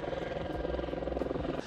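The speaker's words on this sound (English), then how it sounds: "Oh, a helicopter." A steady low rotor thrum with rhythmic chopping pulses, like a helicopter passing fairly close, continuous throughout the short stretch.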